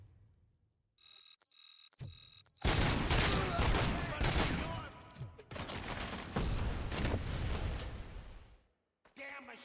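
Heavy gunfire in the RoboCop Rogue City video game: a dense, loud barrage of rapid shots sustained for several seconds, preceded by short electronic beeping tones and ending abruptly.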